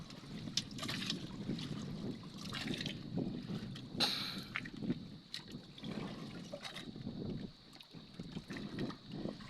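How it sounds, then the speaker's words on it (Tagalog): Oars splash and knock in choppy sea water as a small boat is paddled with a steady rhythm, wind gusting across the microphone and scattered clatter as a crab fishing net is hauled in. "Sabay hila ng lambat, sabay sagwan."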